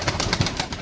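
Pigeons in a loft kept for sale coo softly in short repeated low calls, close by, with no talk over them.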